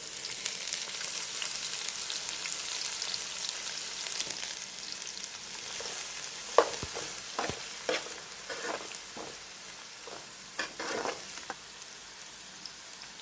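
Thinly sliced onion and four green chillies fry in oil for an Andhra-style fish pulusu, a steady close sizzle broken by scraping stirs and clatters in the second half, with no voices.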